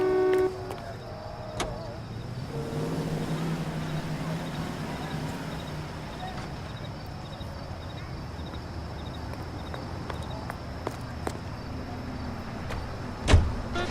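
A car driving in the video game L.A. Noire, a steady low engine hum and road rumble throughout, with a few clicks and a sharp knock near the end, and brief talk.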